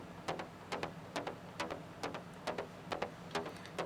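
Zebra synth preset bass line, shaped, plays as quiet rhythmic plucked pulses about twice per second, each note starting sharply and then ducking away, with nothing else heard.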